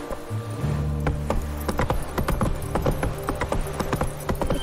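Roach's hooves clop on hard ground in The Witcher 3, a close, loud and quick run of distinct hoofbeats over a low humming game background.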